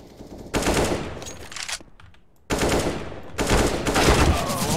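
Rapid automatic gunfire in Counter-Strike on the Dust 2 map, two loud sustained bursts separated by a brief pause, close and dense.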